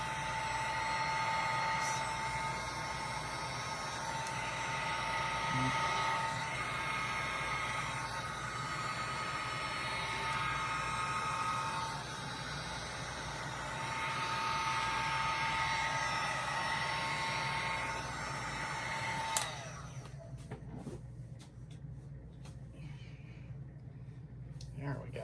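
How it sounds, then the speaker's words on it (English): Heat gun blowing steadily on a stainless tumbler coated in Marabu alcohol inks, a loud continuous airy roar lasting around nineteen seconds before it cuts off, leaving faint handling noises. "Now also with your heat gun, you can help it move around a little bit"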